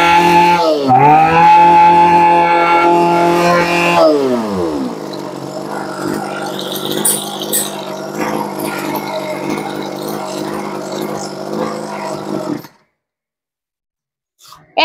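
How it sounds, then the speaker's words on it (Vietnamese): A Mitsubishi TB-engine brush cutter runs loud and close at high revs with a buzzing two-stroke whine. The pitch drops sharply as the throttle eases, the engine idles roughly for several seconds, then it cuts out into silence. "Cái cây Mitsubishi mà động cơ TB như này nè anh chị nghe kỹ đi, máy nó chạy tua rất là nhanh"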